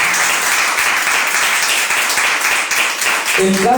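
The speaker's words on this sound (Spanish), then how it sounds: "Denle la gloria y honra a Dios con un aplauso." A church congregation applauds during a Spanish-language sermon, a dense, loud burst of clapping from many people that runs steadily, with a voice starting to speak near the end.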